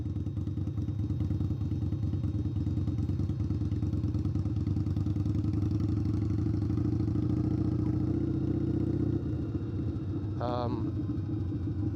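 Custom-tuned Indian Scout Bobber motorcycle rolling slowly through a rock-formation park, its low steady engine rumble close and continuous, easing off briefly near the end as a voice cuts in.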